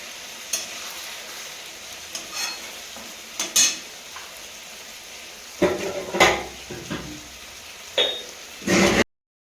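Fish cooks in a pan with a soft sizzle under occasional metal spatula scrapes and clinks against the pan, close by and fairly quiet, with no talk.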